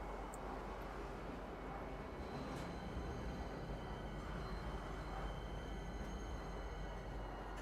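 A Star Citizen transit train pulling into Tisa Spaceport, heard as a steady low rumble with faint high metallic tones, even and unbroken, moderately quiet and without talk.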